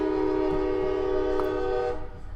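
Passing train sounding a long, steady horn with a rumble underneath, loud and close, the horn holding for about two seconds before it fades.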